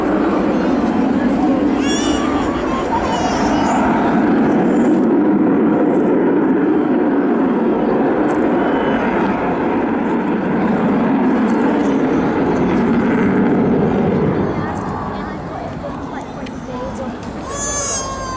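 Avro Vulcan bomber jet engines at the Southport Air Show, a loud sustained roar that holds steady and then fades slightly toward the end, with people talking over it.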